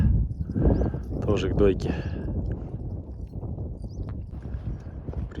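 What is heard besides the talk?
horses walking, hooves clip-clopping, herded for milking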